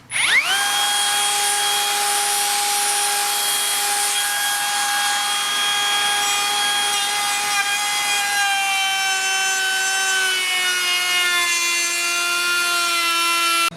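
A Hikoki 36V cordless 1/2-inch plunge router cuts wood with a loud, steady high-pitched whine and grinding texture, running continuously close up with no talk.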